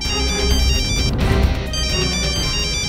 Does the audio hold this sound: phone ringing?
yes